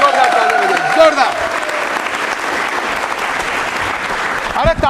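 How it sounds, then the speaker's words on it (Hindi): Loud, sustained applause from a studio audience for a young quiz contestant on a televised Rajasthan quiz show, with a host's voice and tonal sounds early on over the clapping. "प्रहलाद बेरवा के लिए जोरदार तालियां बजाइए"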